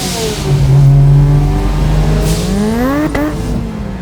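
A Datsun 1200 GX coupe fitted with a turbocharged 13B rotary engine revs up close and loud, its pitch holding, then climbing sharply before easing off.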